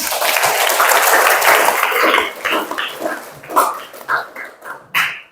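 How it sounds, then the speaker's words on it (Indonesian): A classroom group applauds: a dense burst of clapping for about two seconds, then thinning into scattered, uneven claps that fade out. "tepuk tangan dong"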